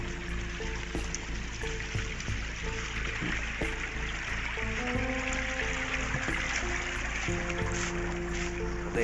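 Dangerous, long river near paddy fields, water rushing in a steady broadband wash throughout, with melodic music playing over it.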